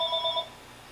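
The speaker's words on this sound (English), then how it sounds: "That's the phone." A telephone rings indoors in a short, faint warbling burst of electronic trills that stops partway, leaving quiet room tone.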